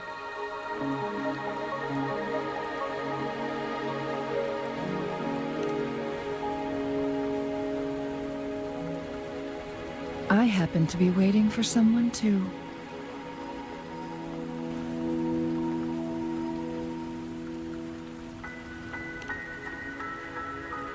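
In the Wuthering Waves video game on Mount Firmament, a steady rain hiss carries on under soft game music while a character speaks one short line partway through.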